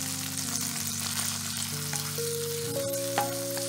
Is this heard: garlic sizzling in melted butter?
yes